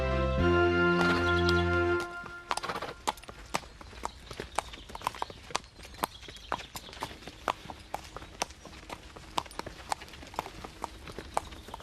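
A horse's hooves clip-clop at a steady walking pace on a hard surface, close and distinct, after a brief loud musical sting at the start; no talk over the hoofbeats.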